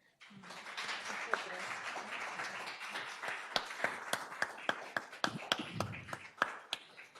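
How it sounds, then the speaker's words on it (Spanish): An audience in a Senate hall gives scattered applause, light and fairly distant, with separate claps that grow sharper toward the end under low murmuring voices. "Yo les pido un aplauso a estas bellas mujeres"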